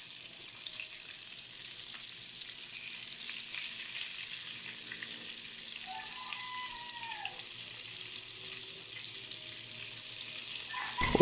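Flour-coated meat frying in hot oil, a steady close sizzle lasting throughout with faint background clatter and a slight rise in intensity at the end.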